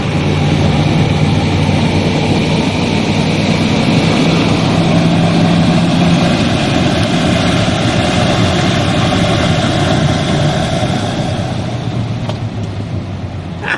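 A 1983 farm pickup truck engine held at full throttle, a loud, steady, droning roar with heavy low rumble and road noise, sustained evenly throughout without any talk.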